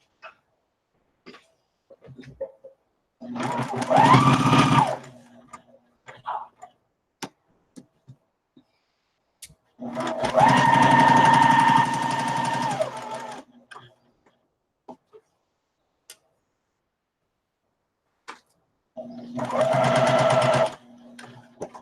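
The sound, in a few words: sewing machine chain sewing quilt pieces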